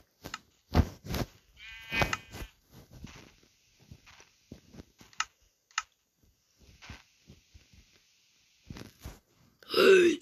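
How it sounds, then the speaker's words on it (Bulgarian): Sheep bleating in Minecraft survival mode, a short wavering bleat near the middle amid scattered footstep and click sounds, with another burst at the end; no talking. "О, бела овца."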